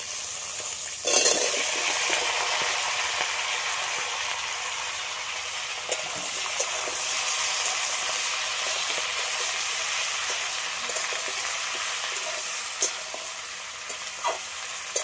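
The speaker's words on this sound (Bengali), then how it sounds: "এবার দিয়ে দেবো কুমড়ো, পুঁই শাক আর আলু।" Pumpkin, malabar spinach and potatoes fry in hot oil for a Bengali dish, giving a steady, close sizzle and hiss with occasional stirring clatter. The sound runs continuously for the whole stretch, and nobody talks.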